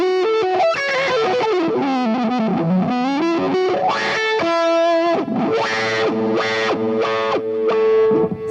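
Electric guitar through a dual wah pedal modelled in a Fractal unit, giving a hollow, flute-like voicing; loud distorted phrases with sweeping wah swells and sustained notes, played alone without speech.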